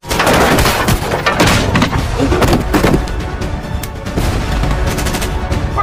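Machine-gun fire in an action film rings out in dense, continuous volleys, loud and close, layered with other chaotic action noise and no clear speech.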